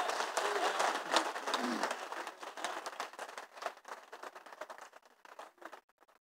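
An audience at a shayari poetry recital claps loudly in a dense burst, the ovation thinning and fading out over several seconds into scattered claps.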